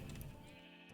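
Sheep bleat in a Minecraft Create mod shearing farm where a deployer holding shears clips wool, a short wavering bleat that fades out, quiet and close.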